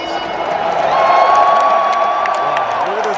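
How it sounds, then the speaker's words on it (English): A large arena crowd at WrestleMania 41 in Las Vegas roars and cheers in a steady, dense wash of noise, with scattered whoops and some voices rising above the sustained din. "Wow, look at this crowd."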